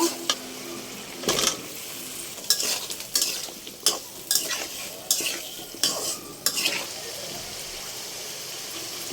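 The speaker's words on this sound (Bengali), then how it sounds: "এখন আমি আলুটা দিয়ে দিব।" Potatoes go into a poa fish curry frying in a pan with turmeric, chili and coriander powder: the oil sizzles steadily under a run of sharp utensil scrapes and clatters against the pan.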